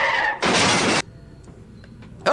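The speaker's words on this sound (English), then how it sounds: "Put up the video of the three-wheeled car just crashing." A three-wheeled car crashes in a short, loud burst of smashing, shattering noise lasting about half a second, then quiet with small knocks before a voice breaks in.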